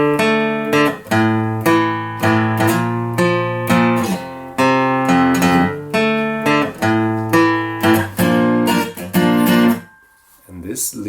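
Acoustic guitar playing the chords of a song slowly, steady strummed chords with muted, choppy accents, ringing close and clear before stopping abruptly near the end.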